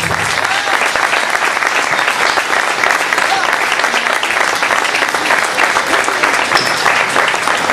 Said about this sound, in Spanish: Muy, pero muy fuerte ese aplauso por esta increíble actuación de Débora y Enzo.